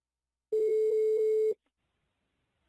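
A single one-second burst of electronic ringback tone sounds clearly on an outgoing phone call, followed by a short silence before a faint voice begins at the very end.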